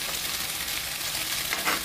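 Tomato puree sizzles and fries steadily in a hot pan for Maharashtrian black-eyed pea usal, a close, constant crackling hiss with no voices over it.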